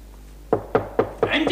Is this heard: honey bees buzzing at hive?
no